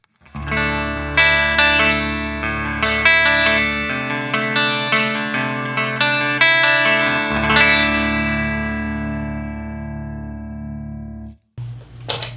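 An electric guitar runs through the clean channel of a Randall RD20 Diavlo head, playing ringing chords and single notes with chorus-like shimmer. It sounds close and fairly loud, each strum sustains, and it ends with a short scrape and a pause.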